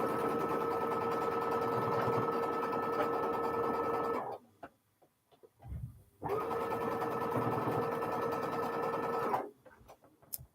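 A sewing machine stitches fabric flower pieces: two long runs of steady, whirring motor hum with a rapid needle buzz, split by a short quiet pause, then stopping near the end.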